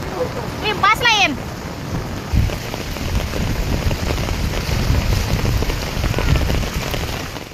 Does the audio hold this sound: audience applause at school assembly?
no